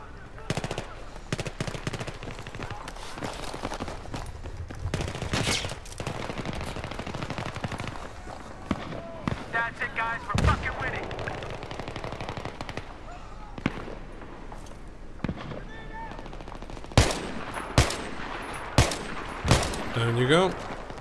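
Battlefield 3 gunfire rings out in repeated sharp bursts and single loud shots, with sniper rifle cracks and machine-gun rattles spread across a busy game soundscape, some shots close and punchy.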